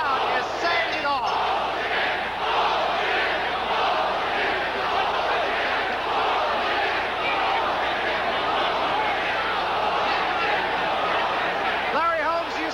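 Boxing crowd roaring in a loud, sustained wall of noise during chaos in the ring after a 1982 heavyweight fight, dense and continuous throughout with voices mixed in.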